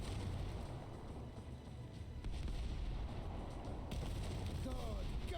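An airship cannon salvo in Airships: Kingdoms Adrift, faint booming cannon fire rolling under a steady low rumble, with a sharper burst midway and distant clattering afterward.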